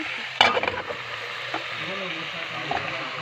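Potatoes fry in a pan with a steady, soft sizzle, broken by a few louder clatters as they are stirred.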